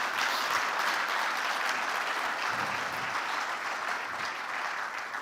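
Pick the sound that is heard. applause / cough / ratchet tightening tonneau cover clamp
applause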